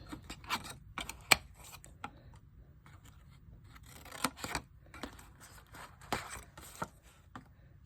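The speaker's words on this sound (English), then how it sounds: "So we're just going to cut those right off." Scissors snip through cardstock box tabs on an Easter bunny treat box, a run of crisp, close clicks and cuts in uneven bursts against a quiet background.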